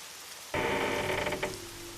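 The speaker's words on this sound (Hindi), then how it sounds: "इतनी तेज बारिश हो रही है" Heavy rain from a Hindi bird cartoon comes in as a loud, dense wash of downpour that starts abruptly, holds for about a second, then eases into a softer background hiss.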